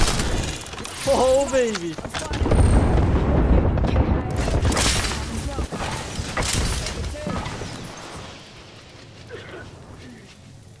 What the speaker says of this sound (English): That's their airstrike, by the way.